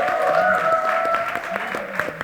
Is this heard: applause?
yes